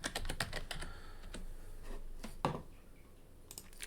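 Computer keyboard keys clicking in short irregular bursts with pauses between, close to the mic, with nobody speaking.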